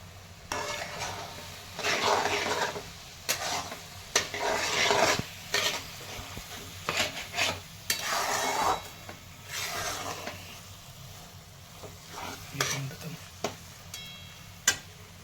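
A spoon stirs and scrapes a sizzling eggplant bharta mixture with fresh coriander in a pan, repeated rubbing strokes and soft metallic clinks over a low frying hiss, close and fairly quiet with a few brief words spoken.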